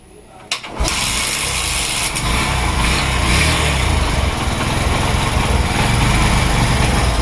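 A Freedom 100cc motorcycle engine catches after a brief start attempt and settles into a loud, steady close idle that runs to the end.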